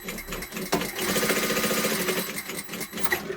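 A sewing machine stitches fabric for a sewn Christmas tree, running in a steady, rapid, close-up rhythm with a short pause near the start and slight changes in speed.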